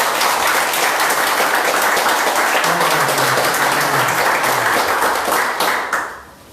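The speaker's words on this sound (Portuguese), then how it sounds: "Você pode dar uma salva de palmas bem forte para Jesus?" A church congregation at a Portuguese-language service claps loudly and energetically for Jesus, a thick wall of applause with a low voice murmuring underneath before it quickly dies away near the end.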